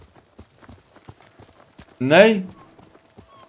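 A horse walks in the video game Ghost of Tsushima, its hooves clip-clopping in a steady rhythm. A loud whinny breaks in midway, and a voice speaks briefly.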